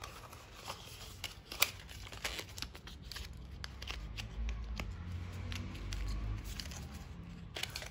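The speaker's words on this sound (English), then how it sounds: "in this journal you get cards," Playing cards from a stationery journal are handled close by, giving a run of crisp flicks, riffles and papery rustles of uneven rhythm. There is no speech.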